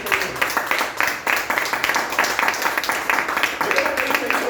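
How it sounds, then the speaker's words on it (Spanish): A church congregation claps loudly and steadily in a dense burst, mixed with voices and talk throughout. "Dale un fuerte aplauso al Señor."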